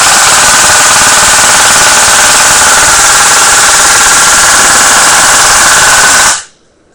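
An airsoft SAW support gun fitted with a spring taken from a Walmart shotgun fires one continuous, very loud, close buzzing burst for about six seconds, then stops abruptly.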